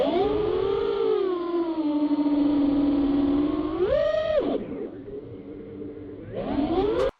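An FPV drone recorded through an audio shim between frame and battery produces a smooth, loud motor whine that holds steady, then surges up, drops low and climbs again as the throttle changes.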